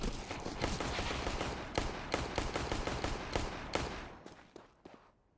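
Rapid bursts of gunfire from a PUBG Mobile esports match with headshot kills, dense overlapping volleys and sharp individual shots that thin out and fade over the last second.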